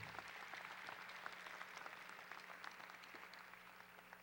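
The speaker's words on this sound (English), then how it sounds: "let's have another round of applause for our student athletes from Garland High School" Applause for student athletes at a high school signing day event, a crowd clapping steadily throughout, moderately distant and without speech.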